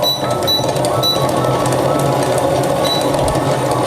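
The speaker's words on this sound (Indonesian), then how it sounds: "Kemudian naikkan speed mixer di kecepatan sedang." A stand mixer kneads bread dough at medium speed with a loud, continuous mechanical whirring and rhythmic thumping that rattles steadily throughout.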